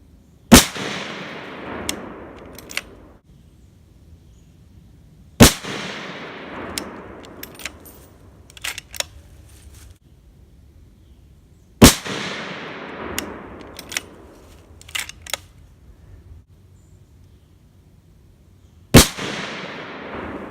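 Four loud, well-spaced rifle shots from a Sig Sauer SSG 3000 firing hand-loaded ammunition, each a sharp crack with a ringing decay, plus faint clicks of the bolt between shots.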